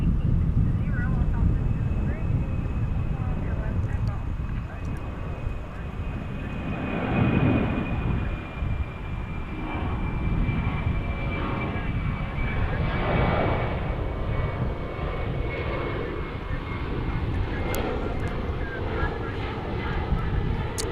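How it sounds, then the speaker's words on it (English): A UPS Boeing 767 departs from Dallas/Fort Worth airport, its broad jet engine roar steady and fairly loud for the whole stretch while a voice talks over it now and then. "767 departing."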